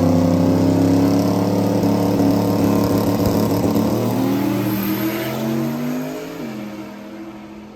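Drag racing car on a test run at Bradenton Motorsports Park, with its nitrous failing to engage, roars loudly as it accelerates down the strip, the engine tone climbing before fading into the distance.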